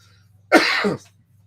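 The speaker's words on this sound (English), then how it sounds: "I got this annoying cough that won't leave" A single short, rough cough from a lingering cough of three weeks bursts out close by against a quiet background hum.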